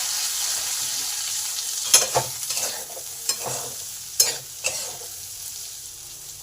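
Potatoes and okra frying in a pan hiss steadily at close range, broken by several sharp spatula scrapes and clatters spaced a second or so apart.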